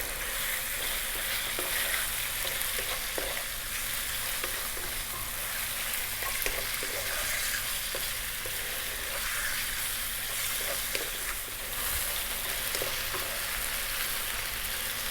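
Chicken seasoned with salt and black pepper sizzles and crackles steadily in a hot wok over high heat, with scattered scraping and stirring clicks throughout, close and continuous with no talking.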